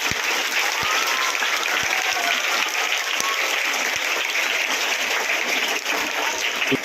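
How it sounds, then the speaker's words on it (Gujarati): Loud, sustained applause from a crowd at a Home Guard foundation day celebration, a thick even wash of clapping for the home guard unit with a few sharper individual claps popping through. "એના માટે આપણે હોમગાર્ડ યુનિટ માટે એકવાર જોરદાર તાળીઓ વગાડીશું"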